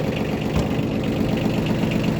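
A small Yanmar Ke 3 tractor engine idles steadily at close range, a continuous low chugging rumble with an even, knocking rhythm and no voices.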